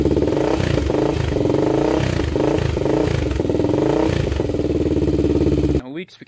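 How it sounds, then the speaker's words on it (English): A Honda 400ex ATV engine runs loud and steady, close by, with a rough, pulsing rumble for almost six seconds before it cuts off abruptly into near silence. "Alright, we'll quick start it up and then add the other half of the oil"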